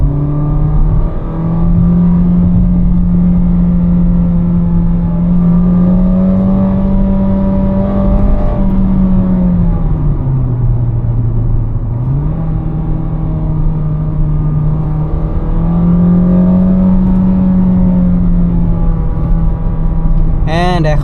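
A 2017 Honda Grace with a DCT gearbox accelerating hard from inside the cabin, its steady engine drone rising and dipping through gear changes, loud and continuous over about twenty seconds.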